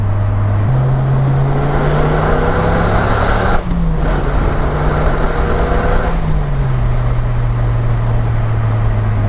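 Dodge Viper RT10 accelerating hard out of a corner, a loud close engine roar climbing steadily in pitch, a brief break around a gear change, then easing off toward the end.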